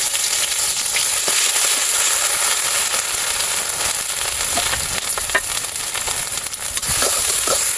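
A loud, continuous sizzle of ground onion, chilli, garlic and cumin paste frying in oil, hissing steadily with occasional crackles and pops.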